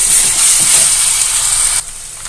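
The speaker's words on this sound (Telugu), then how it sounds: "అల్లం వెల్లుల్లి పేస్ట్ పచ్చివాసన పోయేంత వరకు వేయించుకోవాలి." Ginger garlic paste fries in hot oil in a pan for a dried shrimp and cucumber curry, a loud, steady, close sizzling hiss that drops off sharply near the end.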